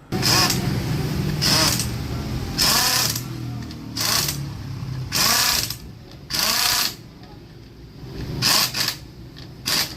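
Bursts of an impact or power tool run on the flange bolts of a Honda CT125 motorcycle, about eight short whirring pulses of uneven length separated by brief pauses, loud and close.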